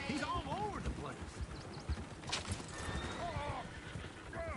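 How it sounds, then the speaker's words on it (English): Horses in the Red Dead Redemption 2 video game whinny repeatedly with rising and falling neighs over a busy clatter of hooves, fairly close, while voices talk in the background. "Oh, shit, the horses!"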